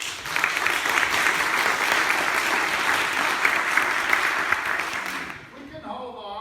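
Sustained audience applause at a county candidates forum, loud and even for about five seconds, then tapering off as a voice begins speaking.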